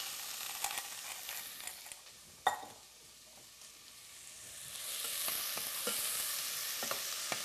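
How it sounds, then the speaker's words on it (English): Chopped onion and a little garlic sizzling in hot frying oil, a soft steady hiss with a sharp clack near the middle and the sizzle swelling louder toward the end, fairly faint and close. "Now to my oil, I've got 1 onion and a little bit of garlic that we're going to put in there"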